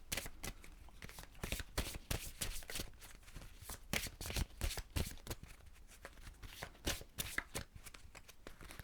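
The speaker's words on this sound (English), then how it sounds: "I'm just going to take a Zodiac Oracle card." Zodiac Oracle cards shuffled in a long run of rapid, crisp riffles and slaps, close and steady, ending as a card is drawn.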